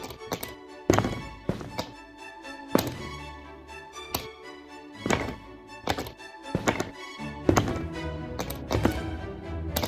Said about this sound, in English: Sounds of the jigsaw pieces moving is creeping me